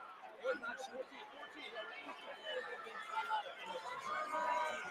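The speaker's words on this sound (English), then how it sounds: "Crowd making a lot of noise here at Prudential Center" Basketball arena crowd at the Prudential Center during a tense late free throw between DePaul and Seton Hall, a low, steady roar of chatter and cheering with swelling peaks, heard from a distance.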